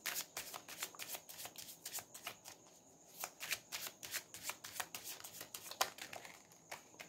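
Tarot cards shuffled by hand in a steady run of crisp riffles and soft slaps, close and fairly quiet, with a short pause partway through.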